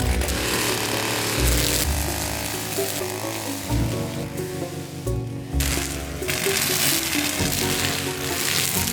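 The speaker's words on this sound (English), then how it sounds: "So I grabbed the trimmer and got to work." String trimmer cutting thick, overgrown grass on a farm: a loud, buzzing two-stroke whine with a rough, sizzling cut that rises and dips as the head bites into heavy growth, running continuously and close.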